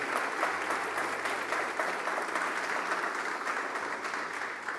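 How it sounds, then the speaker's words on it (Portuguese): A church congregation applauds during a sermon: a sustained, even roar of many hands clapping together, filling the room at a steady level throughout before easing slightly near the end. "Pode aplaudir a palavra do Senhor."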